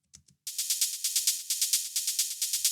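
Soloed hi-hats built from a clap sample tick in a fast, steady pattern of bright, hissy bursts, preceded by two faint quick hits, crisp and alone.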